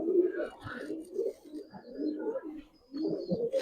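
Giribaz silver and pankhi pigeons coo in a soft, low, continuous murmur with a few brief pauses, several birds calling close by.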